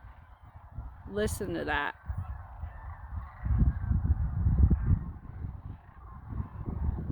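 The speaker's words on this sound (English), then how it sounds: "Check out the sandhill cranes." Sandhill cranes calling in a field, a loud rattling, bugling burst nearby followed by distant crane calls under strong wind buffeting, with someone speaking briefly.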